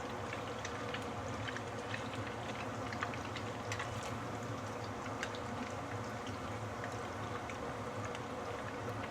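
Radish meatballs fry steadily in hot oil in a pan, giving a continuous low sizzle and crackle with small pops scattered throughout, even and moderately quiet, with no talking.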